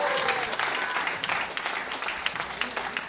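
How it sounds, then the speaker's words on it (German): Crowd applause at a Footwork Friday dance battle, a dense spread of clapping from the audience at moderate level, with some voices mixed in beneath it. "Applaus für das Band."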